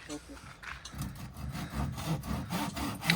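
Someone hand-saws a marked piece of wood, the blade rasping in steady back-and-forth strokes, close and fairly loud, while a person talks quietly over it.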